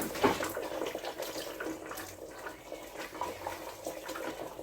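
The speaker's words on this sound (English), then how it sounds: "I am going to go ahead and now add the orange juice to the" Blood orange juice pours into a cooking pot for carnitas, a soft, continuous liquid splashing at low level with faint kitchen background and no speech.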